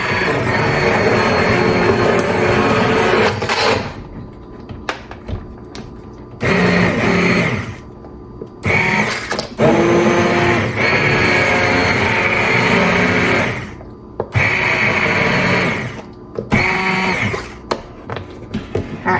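An immersion blender pureeing cranberries and apples into fruit butter in a crockpot, running in loud, steady buzzing bursts with several short pauses between them, close up.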